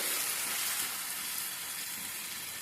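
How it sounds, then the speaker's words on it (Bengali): Garlic frying lightly in oil, a steady soft sizzle and hiss that holds evenly throughout, close by and alone. "আমি এই যে হালকা একটু কষে নিলাম তেলে, আমার রেডি হয়ে গেছে"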